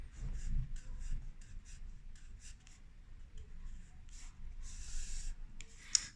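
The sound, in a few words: drawing small hands quickly with a pen on paper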